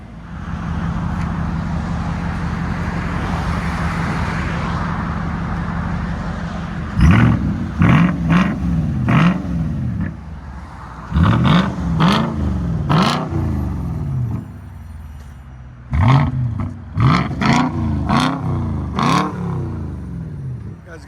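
A 2008 Volvo S80 with a 4.4L V8 and a muffler delete revving: a steady idle rumble, then loud, sharp bursts of throttle in quick clusters that rise and fall, separated by short quieter idle pauses.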